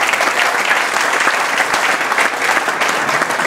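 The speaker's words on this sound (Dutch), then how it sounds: "Nogmaals een applaus voor de notaris." Steady, enthusiastic clapping from a sizable audience at a charity auction in Genemuiden, filling the whole stretch at an even, dense pace.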